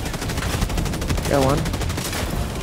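Rapid turret gunfire in the video game Helldivers 2, a sustained rattling burst of shots under a player's brief spoken remark and game noise.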